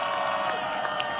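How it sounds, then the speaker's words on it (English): A crowd at an outdoor political rally in Queens claps and cheers in a dense, continuous wash of applause with scattered shouts, heard from within the audience. "if we can have a round of applause for every organization that put this event on today"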